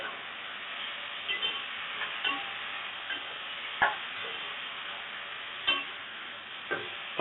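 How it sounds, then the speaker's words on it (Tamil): Tomatoes and green chillies sauté in a pan for quail biryani, giving a soft continuous sizzle broken by occasional spoon scrapes and stirring clicks. "இப்போ 200 கிராம் தக்காளி, 3 பச்சை மிளகா சேர்த்துக்கலாம். இது சேர்த்து நல்லா வதக்கிக்கலாம்."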